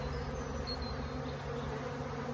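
Honeybees swarm around an opened hive during removal of winter supers, a dense, continuous buzz that fills the air close up with no pause.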